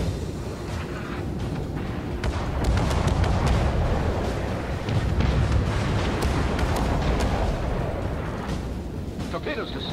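Warship guns fire in World of Warships, a dense, continuous roar of booming salvos and explosions that stays loud throughout, with someone talking over the battle.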